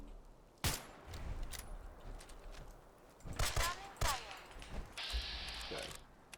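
Gunfire in the video game Fallout 4, a few sharp shots and short bursts spread across the moment, mixed with game effects and someone talking over them.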